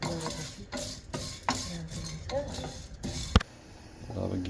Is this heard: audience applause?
no